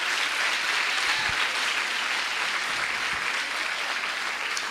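A church congregation applauding at a conference, a continuous wash of clapping that stays even and fairly loud for the whole short stretch, with no talking over it.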